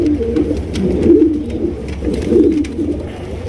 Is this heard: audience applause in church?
no